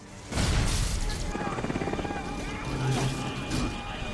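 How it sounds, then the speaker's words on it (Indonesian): A steady low whirring rotor drone with a rhythmic chop, like a helicopter flying nearby, under music and effects. "mereka pun berkeliling menggunakan helikopter untuk melihat daerah konfliknya"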